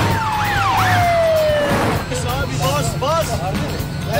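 Police car siren wailing loudly and sweeping up and down close by in traffic, then giving way to shorter yelping bursts, with a nearby engine rumble and excited voices talking over it.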